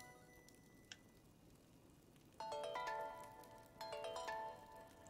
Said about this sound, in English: Oh, that sounds like an old phone ringtone.